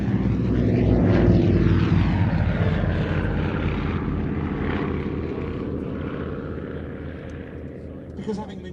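A vintage Avro 19 propeller aircraft drones loudly and steadily, its engine tone holding throughout and slowly easing off toward the end, with a person talking over it.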